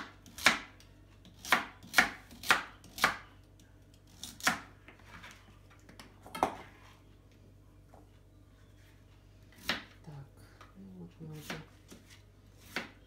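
Vegetables chopped with a knife on a board for vegetarian monastery-style cutlets: sharp, irregular close knocks in short bursts with pauses, fairly quiet overall, with faint background noise between strikes.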